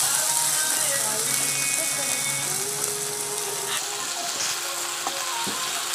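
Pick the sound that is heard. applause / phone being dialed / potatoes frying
potatoes frying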